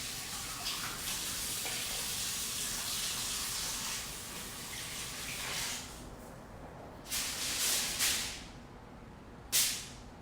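Running tap water while hands are washed in a home kitchen: a steady broad hiss of flowing water for several seconds, then it cuts off, leaving a few brief splashes and bursts.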